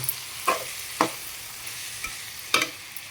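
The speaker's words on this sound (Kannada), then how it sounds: "ನಾನು ಈಗ ಮತ್ತೆ ಎಲ್ಲನೂ ಮಿಕ್ಸ್ ಮಾಡ್ತೀನಿ" Vermicelli pulao is stirred in a pan, its spoon scrapes landing as a few distinct strokes over a soft steady sizzle, close by and with no voices.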